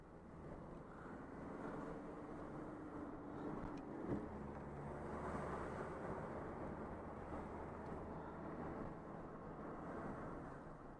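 A Peugeot 309 GRX D diesel car cruising at about 50 km/h, heard from inside as a steady low engine and road drone with faint wind noise, no talking.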